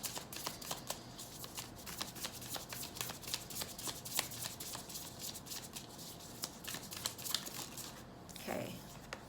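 Tarot cards handled and shuffled, a dense run of fast papery riffling and flicking, close up, with a brief soft rustle near the end and no talk.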